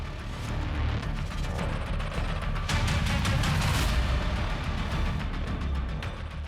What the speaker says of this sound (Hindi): जब से बोला है पटाखे चलेंगे तब से गोलियां चल रही हैं